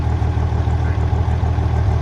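An old International 706 tractor engine idles steadily with a deep, even low rumble and a faint rhythmic pulse throughout, close and alone with no voices.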